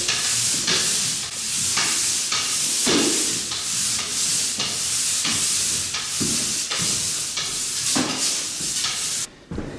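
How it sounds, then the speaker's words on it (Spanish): Sandpaper rubbed by hand along the grain of a varnished wooden floor, a steady scratchy rasp in regular back-and-forth strokes, close and continuous with no talking. "Siempre lijarlo en las líneas de la madera"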